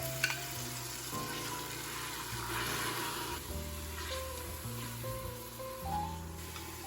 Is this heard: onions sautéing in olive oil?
yes